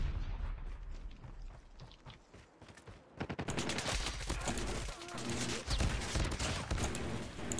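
Rapid bursts of automatic gunfire from the video game Call of Duty: Mobile, with dense overlapping shots that grow louder and more intense partway through, continuing without pause.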